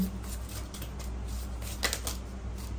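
Tarot cards shuffled and drawn, a soft, continuous riffling and flicking close by over steady background noise, with one brief sharper burst of card sounds.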